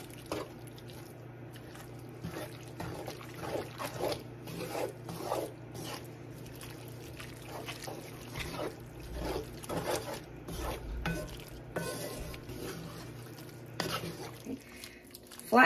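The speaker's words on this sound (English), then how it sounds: "I'm going to go ahead and add that mixture we just made. Okay, let's stir this up." A potluck casserole mixture for Thanksgiving is stirred in a pan, with soft scraping and squishing strokes repeating irregularly at close range under a steady background hum.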